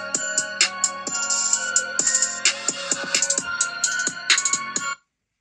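Loud, bright music with punchy bass and busy melodic notes plays from a Samsung Galaxy A34 5G's stereo speakers, then cuts off abruptly near the end.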